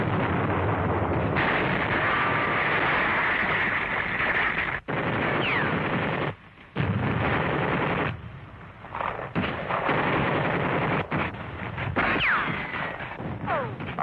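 Battle at Mortain, with outnumbered infantry fighting German tanks using rifles and grenades: dense, loud bursts of gunfire and blasts roll almost without pause, broken by a couple of brief gaps and some thinner stretches toward the end.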